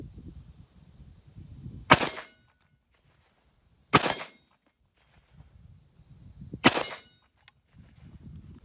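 Three sharp AR-15 rifle gunshot cracks at a gun range, each followed by a ringing metallic clang from a steel target, spaced a couple of seconds apart, heard muffled as if through hearing protection.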